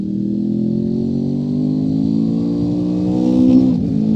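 A 1999 Honda VFR motorcycle revs up steadily on the Nürburgring Nordschleife, recorded onboard with a rising engine whine and a brief gear change near the end, loud and close with no talk.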